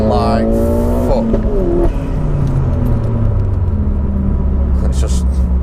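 A Vauxhall Astra VXR accelerates hard with wheel spin. The engine is loud and close, with revs climbing and shifting under a constant rumble.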